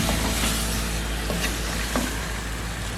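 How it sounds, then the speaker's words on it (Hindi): Chicken pieces fry in hot oil over a medium flame, a steady close crackling sizzle with a few soft pops and stirring clinks throughout. "और अब मैं चिकन को इसी ऑयल में मैं फ्राई कर लूँगी।"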